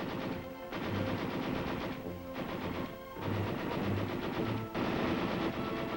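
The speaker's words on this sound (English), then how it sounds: "Then we fired the record course with the light machine gun." Light machine gun firing on a training range, several sustained rapid bursts of about a second each separated by short pauses, loud and close with no talk.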